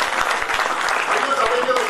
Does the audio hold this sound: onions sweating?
no